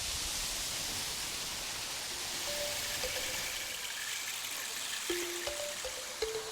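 The 1,000-stage waterfall in Shangri La gives a steady, broad rush of cascading water, continuous and fairly close, with a few faint high tones breaking through.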